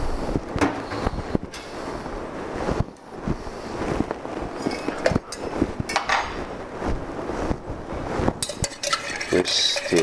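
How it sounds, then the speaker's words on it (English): A Negroni is stirred with ice in a silver mixing glass at the Camparino in Galleria bar in Milan, giving close, irregular metallic clinks and rattles over a busy background. "We stir really well. You like our silver mixing glass?"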